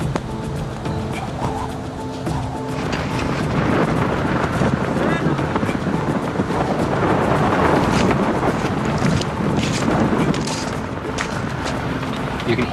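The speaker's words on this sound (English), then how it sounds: "You can hear the roar of the wind and the gravel being brought towards you." Roaring wind sweeping over an open outdoor campsite before a storm, a steady, loud, broadband rush that swells and gusts throughout under a close voice.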